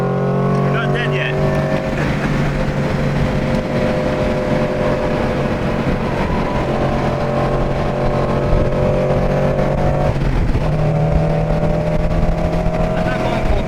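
A Cosworth supercharged Toyota FRS laps Harris Hill Raceway. The engine drones loud and close at part throttle, pitch rising and dipping through corners, with a brief shift around the middle and people talking over it.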